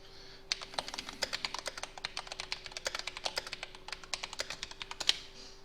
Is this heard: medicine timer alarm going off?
no